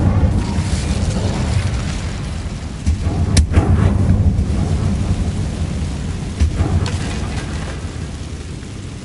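The Incendio fire spell in Hogwarts Legacy is cast with a loud, roaring burst of flame. A sharp crack rises near the middle and stands out over a steady, rushing, rain-like wash of noise.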